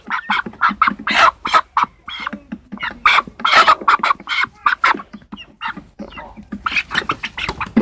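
Chickens and roosters in a small backyard flock, reared from incubator-hatched chicks now about two months old, cluck and squawk loudly and continuously in overlapping bursts close by.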